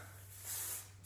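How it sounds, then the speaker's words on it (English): Hairspray hisses from an aerosol can onto hair in one short, close burst of about a third of a second, over faint background hum. "spray a little bit with hairspray"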